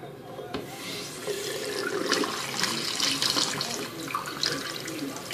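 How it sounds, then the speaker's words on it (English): Cold tap water runs steadily into a cup for several seconds, a continuous splashing, gurgling pour that is close and fairly loud, with no talking over it. "you're going to take your cup and fill this up with water. Cold water."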